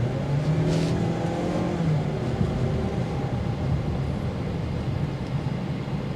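A 2024 Ford Edge SEL with its EcoBoost V6 accelerating: a steady, moderately loud engine drone with a rising tone early on, heard from inside over road rumble, with no talk.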